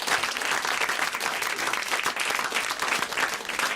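Studio audience of a French TV comedy show applauding a guest, continuous lively clapping throughout, fairly close and full.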